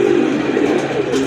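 Kaldam pigeons, a pair kept in a loft, give a brief, close, low cooing murmur over steady background noise.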